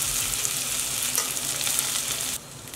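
Cooked rice stirred into a sizzling tempering of curry leaves, turmeric and salt in a pan: a steady loud frying hiss with scraping stirs, dropping quieter near the end, no voices.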